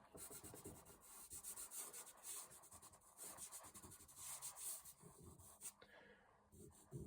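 Soft, faint scratchy rubbing of fingers working Sennelier soft pastel into paper, in short uneven strokes heard close up with no voice.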